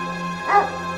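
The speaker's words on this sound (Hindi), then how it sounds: "वहां वही डरावना कुत्ता फिर से उस पर भौंकता हुआ दौड़ता है।" A single short dog bark rings out close and fairly loud over a steady background hum, with no voices.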